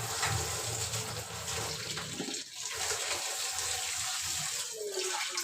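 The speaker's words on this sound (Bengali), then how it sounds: "আমি নুডলসটা সুন্দর মতো করে ধুয়ে নেব।" Tap water runs steadily over boiled egg noodles being rinsed, a continuous close hiss and splash that keeps going without a break.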